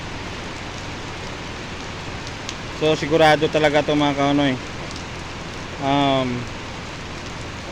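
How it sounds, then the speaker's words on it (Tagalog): Steady broadband rain hiss fills the whole clip, with someone talking over it in two short bursts. "Grabe lakas ng ulan"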